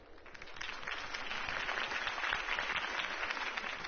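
Crowd applause follows a campaign speech in a Batman video game, a steady, dense wash of clapping at low volume that holds evenly for a few seconds with no voices over it.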